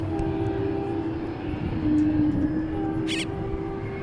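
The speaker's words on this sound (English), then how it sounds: "Oh, check out this Gulfstream." A Gulfstream business jet at Dallas Fort Worth International Airport gives a moderate, steady engine hum with a faint whine, heard from a distance with a brief higher hiss near the end.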